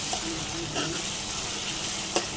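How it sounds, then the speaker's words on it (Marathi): Chopped onions sizzle steadily in oil over a high gas flame while browning for a Konkani jackfruit vegetable dish, making a continuous close hiss with a few faint clinks. "गॅसची फ्लेम मी थोडी मोठीच ठेवलेली आहे, कारण हा आपण कांदा ब्राऊन रंगावर येईपर्यंत फ्राय करून घ्यायचा आहे."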